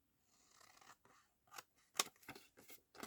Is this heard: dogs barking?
no